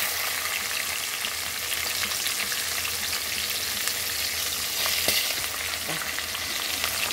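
Onions and green chillies fry with curry leaves in a hot pan for a brinjal curry, giving a steady, close hiss and crackle of oil that runs on evenly with no talk.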